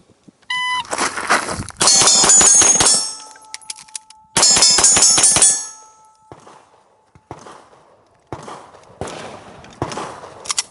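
Rapid pistol shots ring out in a Bill Drill, two tight strings of sharp cracks with metallic clangs from steel targets, each string followed by a fading echo, then a few scattered quieter knocks and clanks.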